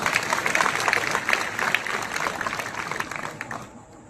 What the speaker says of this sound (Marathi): त्या 3ही पिढ्यांसाठी मला वाटतं एकदा जोरदार टाळ्या झाल्या पाहिजे